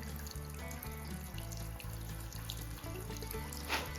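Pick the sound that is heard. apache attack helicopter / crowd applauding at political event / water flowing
water flowing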